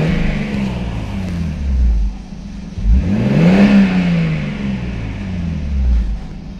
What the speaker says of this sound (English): I think it's the Tomei Tai Extreme, which is a full titanium exhaust. Really nice note, not too loud.